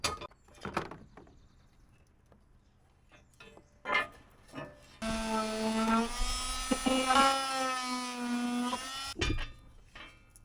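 A power drill enlarges license plate screw holes to fit Schrader air-spring valves: a few scattered knocks and clicks, then a loud, close drill whine that holds for about four seconds with shifting pitch before cutting off.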